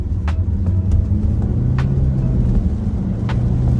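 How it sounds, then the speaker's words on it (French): A Renault Austral Esprit Alpine accelerates hard on a wet road, its engine droning low and steady throughout, with a few brief hissing bursts of tire spray and no talking. "sur cette ligne droite, on va pouvoir faire une accélération"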